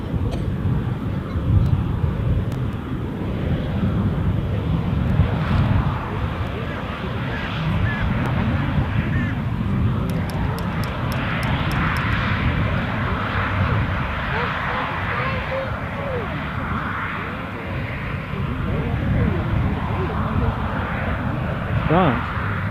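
An Embraer airliner passes at Amsterdam Schiphol airport with a steady, broad jet engine roar that holds loud throughout, mixed with wind noise on the microphone and talk over it.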